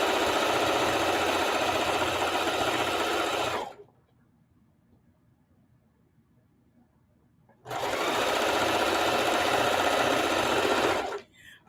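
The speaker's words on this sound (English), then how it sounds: "when I'm sewing just strips, of course I can sew fast" Sewing machine stitching quilt strips at high speed, a loud steady mechanical whir in two long bursts separated by a quiet pause of about four seconds.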